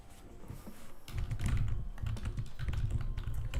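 Rapid typing on a computer keyboard, a dense run of close, clicking keystrokes that grows busier and louder after the first second, with no voices.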